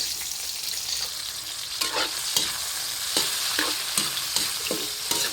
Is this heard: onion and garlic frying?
yes